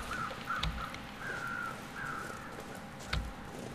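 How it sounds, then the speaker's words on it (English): Crows cawing in The Long Dark video game: a murder of crows circling gives repeated harsh caws spread across the clip at moderate distance, with a couple of sharp knocks in the background. "A murder of crows circling."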